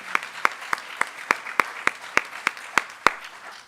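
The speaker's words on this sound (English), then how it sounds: "Please give yourselves a round of applause." Sparse, evenly spaced claps from a small audience at a Black graduation celebration honoring seniors, about a dozen sharp slaps in a slow, steady rhythm over faint room ambience.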